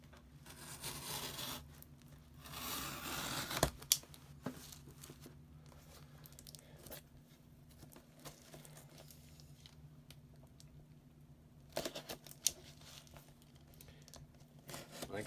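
A cardboard box of vintage 1980s action figures being cut open, with faint close rustling, crinkling and rasping cuts in scattered bursts, a louder tearing stretch early on, all soft and without talk.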